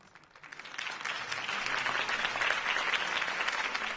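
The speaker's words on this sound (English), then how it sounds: "could have heard that applause" A crowd in Batman: The Telltale Series breaks into steady applause that swells within the first second and holds, a dense wash of clapping with no voices.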